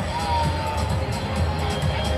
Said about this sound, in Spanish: el aplauso, así se reciben en este momento